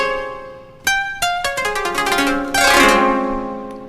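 A koto-inspired plucked string chord texture in the Hirajoshi scale, from a Kontakt sample library: a few separate plucks, then a quick rising run of picked notes that swells into a ringing chord, clear and alone.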